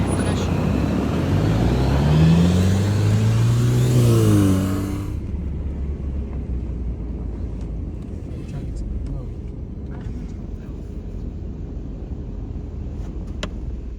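A car engine revs hard as it climbs a snowy mountain road toward Bakhmaro in Guria, its pitch rising and falling for about five seconds before dropping away to quiet ambient noise.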